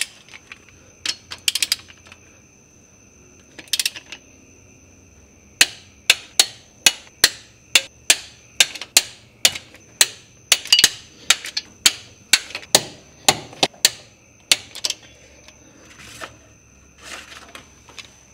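A torque wrench tightens bolts to 35 foot-pounds during a Hemi engine swap into a Dodge Ram, giving a long series of sharp, close ratcheting clicks in quick bursts, with brief pauses between them.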